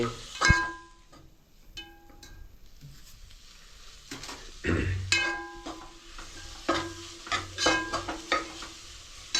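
Cumin seeds sizzle in hot oil for a chicken curry while a spoon stirs them, with several sharp clinks of metal against the pan over a steady low crackle. No one speaks.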